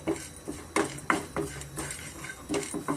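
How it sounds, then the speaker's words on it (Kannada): Dry coconut and asafoetida frying in a pan, heard as a series of sharp metallic clinks and scrapes of a utensil against the pan, irregular and close, over a faint background sizzle. "ಸ್ವಲ್ಪ ಇಂಗು ಸೇರಿಸಿ ನಾನು ಫ್ರೈ ಮಾಡ್ಕೊತೀನಿ ಸ್ವಲ್ಪ ಕೊಬ್ಬರಿ"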